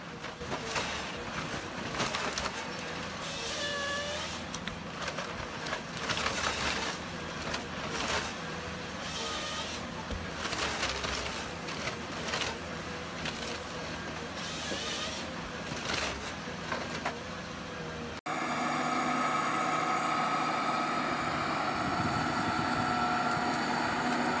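A John Deere 1470G forest harvester at work, its engine droning steadily with rattling, clanking and hydraulic surges in the forest, the tone shifting to a smoother, louder hum near the end.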